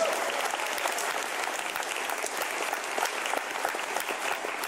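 A large convention crowd at a furry convention opening ceremony gives sustained, even applause throughout, a dense wash of many hands without pause.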